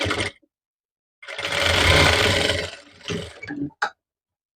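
A sewing machine stitches a seam across folded blouse fabric while a prince cut blouse is being made, running in one steady two-second burst and then a few shorter, choppier bursts, close by with no talking.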